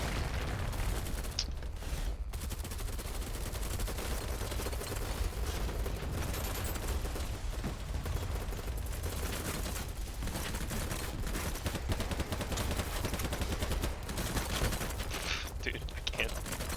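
Dense, continuous gunfire from a first-person shooter battle in BattleBit, with rapid automatic bursts and overlapping shots near and far, running steadily under chatter and game noise.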